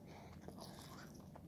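Food being chewed close up, a steady wet crunching and mashing that runs without pause and without any talk.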